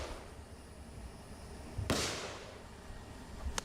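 A firework mortar loaded with golf balls fires once outdoors, a single sharp burst fading quickly over steady background noise, followed by a faint crack moments later.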